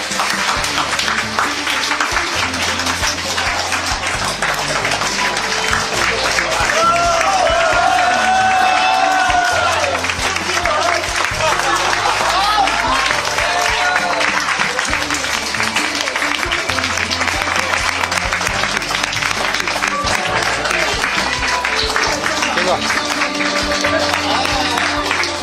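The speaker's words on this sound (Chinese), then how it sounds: "请全场所有的来宾师兄弟们响起今天第一次热烈的掌声，送给我们的老师" In a banquet restaurant, guests give long, warm applause for a teacher's eightieth birthday, with dense clapping and some cheering continuing steadily for about twenty-five seconds amid crowd voices.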